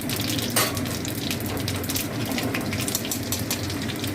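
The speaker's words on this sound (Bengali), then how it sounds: "ফোড়নটা হয়ে গেছে, আমি আলুগুলো ভেজে নেব।" Potatoes frying in hot oil just after cumin seeds are tempered, a steady close crackling sizzle that runs the whole time with light clinks of a utensil and no voices.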